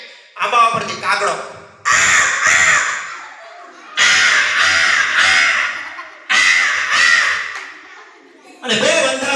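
A voice imitates a crow cawing from a mango tree in a series of four harsh, raspy caw bursts, loud and close, separated by short pauses.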